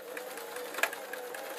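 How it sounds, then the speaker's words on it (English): A sewing machine stitches a straight seam on an oilskin tote bag, giving a fast, steady, close-up whirring hum with a faint mechanical chatter and a small clunk midway. "I'm then going to sew straight."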